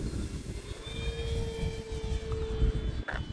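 An FMS P-47 Razorback RC airplane flies at full throttle in a dive, giving a steady electric motor whine with a rising and falling tone over a rough rumble of wind.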